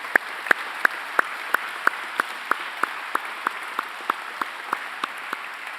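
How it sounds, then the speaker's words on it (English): Volunteers at a Truth and Reconciliation Day commemoration receive a short run of evenly spaced single hand claps, about seventeen sharp, clear beats that slow slightly and grow softer toward the end. "Can we give them a big applause?"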